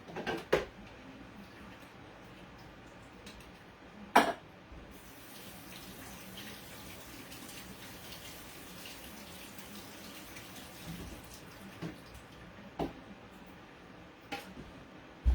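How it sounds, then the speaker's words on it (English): Canned beans are drained and rinsed under a running kitchen tap, a steady low wash of water with a few sharp clinks and knocks of the can and sink scattered through it. "let me just drain this stuff and rinse off the beans"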